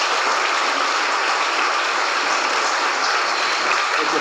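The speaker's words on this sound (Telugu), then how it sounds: "క్లాప్స్ కొట్టండి ఒకసారి" Students at a school science event in Mangalagiri clap together, a dense, even wash of applause held steadily at a moderate level throughout.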